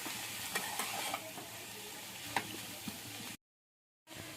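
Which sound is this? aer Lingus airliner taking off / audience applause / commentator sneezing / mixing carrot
mixing carrot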